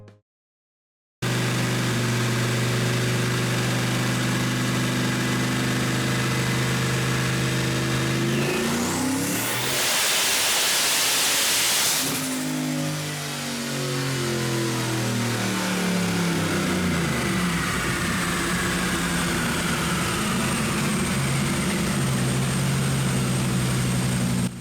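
A Chevrolet Colorado running E75 with 22 psi of boost makes a full dyno pull, its engine note climbing in pitch and then dropping back, with a loud whooshing burst mid-run. The note stays loud and close throughout.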